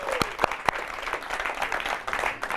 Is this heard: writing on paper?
no